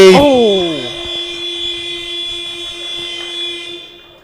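A long, steady electronic end-of-quarter buzzer sounds at a women's basketball championship game in a gym, loud and sustained for about three seconds after a brief burst of commentary and crowd noise, then fading.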